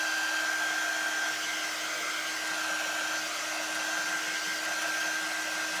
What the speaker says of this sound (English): Let me go ahead and dry this just a little bit with our heat tool gun